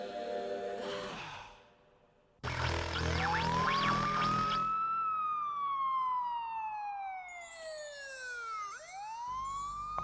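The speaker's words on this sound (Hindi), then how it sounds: "ये सायरन खामका बजता है यार" A wailing siren rises and falls in long sweeping tones in a Chacha Chaudhary cartoon scene, loud and close, following a short burst of clattering noise, with no talk over it.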